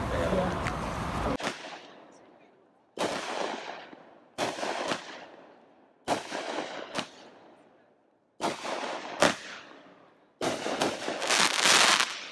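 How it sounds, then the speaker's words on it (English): A series of loud outdoor firework bangs, about seven separate blasts spaced a second or two apart, each followed by a long rumbling echo fading away. "I'm watching the guy over here on the dock doing his fireworks"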